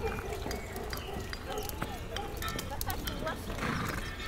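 A horse clip-clops at a steady pace and gives a short whinny, heard faintly within a low, busy outdoor ambience.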